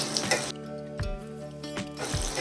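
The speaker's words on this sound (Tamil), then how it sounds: "நல்லா பச்சை மிளகா வந்து நல்லா செவந்து வர அளவுக்கு நல்லா வதக்கணும்" Green chillies and tamarind sauté in a hot pan, giving a soft sizzle with a few brief stirring scrapes and clatters; close and steady, with a faint voice talking underneath.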